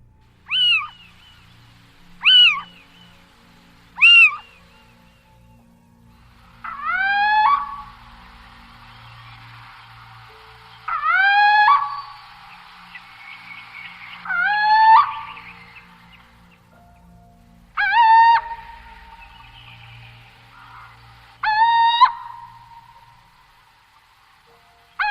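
Nocturnal owl giving a cat-like meowing call, a series of separate wavering, rising-then-falling cries spaced a few seconds apart, clear and isolated over a quiet night background.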